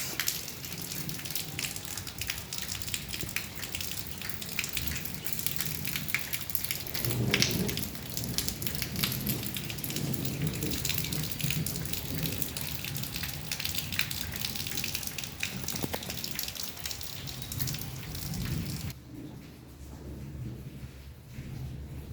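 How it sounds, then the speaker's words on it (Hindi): Steady rain falls outside a meditation room, a dense continuous hiss with occasional low rumbles like distant thunder, loud throughout and thinning slightly near the end, with no talking. "बारिश।"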